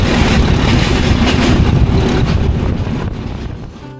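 A diesel commuter train rumbles past loudly and close, with wind buffeting, then its noise fades away toward the end.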